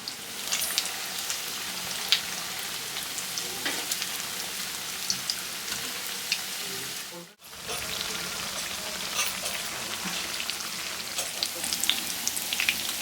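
Chickpea vadas with curry leaves frying in plenty of hot oil, a dense, continuous crackling sizzle close by that briefly cuts out midway, then resumes just as strongly.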